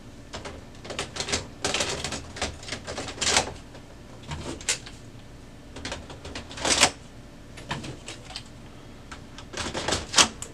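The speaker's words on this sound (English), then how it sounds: "now we can reinstall all of our toners and drums" Toner cartridges and drum units slide back into a Brother HL-L3210 laser printer with a close series of plastic clicks, clunks and scraping knocks at irregular intervals.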